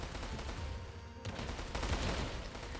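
Bombing and gunfire in a war strategy game with France and Russia: a dense, continuous wash of distant explosions and crackling shots, steady and moderately loud, with a brief dip partway through.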